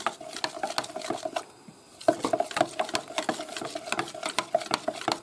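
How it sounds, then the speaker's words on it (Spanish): A spoon stirring dissolved cornflour in a bowl or pot while preparing crema catalana, producing rapid, steady clinking and scraping taps against the container, with a brief pause midway before the brisk rhythmic stirring resumes, close and clear. "Con una cuchara la movemos bien para que no haya grumos."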